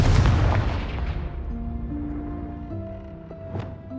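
A Confringo fire spell detonates in Hogwarts Legacy with a loud, deep boom that rolls off and fades over a few seconds, while sustained musical tones linger beneath.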